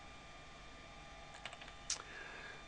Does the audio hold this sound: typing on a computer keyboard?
yes